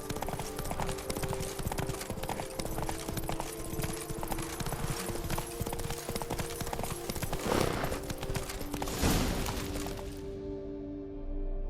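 Roach the horse gallops in The Witcher 3, her hooves pounding out a steady, continuous clip-clop at close range with a couple of louder thuds before the sound cuts off.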